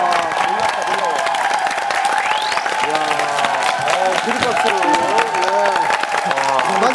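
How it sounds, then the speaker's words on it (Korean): A studio audience at a TV talent show applauds beneath overlapping talk and music, the clapping a busy texture partly masked by voices and bright tonal sounds. "박수 들어요"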